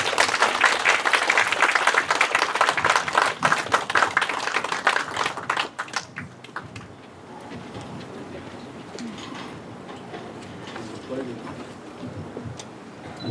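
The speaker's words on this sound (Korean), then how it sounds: "세종시 행정수도 완성을 위한 브리핑을 위해 최민호 시장님을 큰 박수로 모시겠습니다." An audience in a civic hall gives big applause to welcome the city mayor, loud dense clapping for about six seconds that then dies down into quieter room noise and murmuring.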